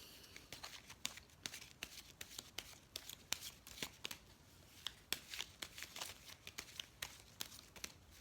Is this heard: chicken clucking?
no